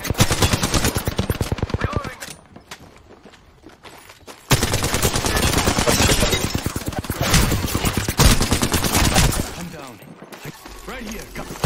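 Rapid automatic gunfire in a battle royale video game, loud close bursts of rattling shots broken by short pauses, with a voice talking at times.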